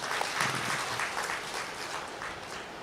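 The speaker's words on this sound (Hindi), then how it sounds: "अपने लिए ही जोरदार ताली बजाइए" A seated audience at the inaugural ceremony of a teachers' training programme claps steadily, a dense, even wash of applause that holds at moderate loudness throughout.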